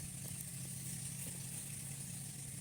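A gasoline-powered water pump motor used for irrigating a tobacco field drones steadily at an even, faint level, with a continuous engine hum and slight rattle and no voices.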